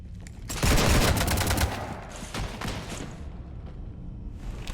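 Rapid gunfire aboard a ship in Mass Effect 3: a loud, close volley of shots for about a second, then scattered fainter shots over a steady background rumble.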